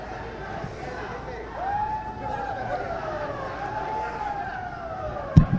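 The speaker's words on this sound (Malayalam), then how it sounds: "ടിയർ ഗ്യാസ് പ്രയോഗിക്കാനുള്ള സൈറൺ ഇപ്പോൾ പുറപ്പെടുവിച്ചിരിക്കുന്നു." A police siren wails with long rising and falling tones at a student protest march on Raj Bhavan, warning before tear gas is fired. It sounds over steady crowd noise and ends with a sharp loud thump.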